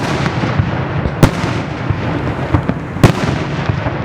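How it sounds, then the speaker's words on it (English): Fireworks booming in a continuous rumbling barrage, with two sharp, loud blasts standing out and echoing around, no voices. "The fireworks are so loud, it's echoing everywhere."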